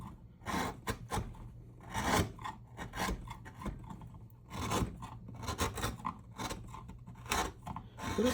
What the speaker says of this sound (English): This chisel could be a little bit sharper.